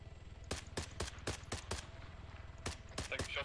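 Gunfire in the military shooter Arma 3: a string of sharp single shots, roughly evenly spaced, then a quicker burst near the end, over a low steady engine rumble.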